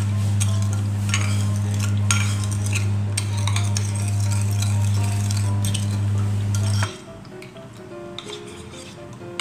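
Sugar is stirred to dissolve it for homemade coconut ice cream, light scraping and clinking of a utensil against the container repeating over a steady electrical hum that cuts out near the end.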